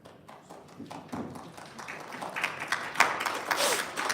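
Scattered hand clapping ripples through a city council meeting chamber, a loose patter of claps that builds slightly and carries on for several seconds, with faint background voices.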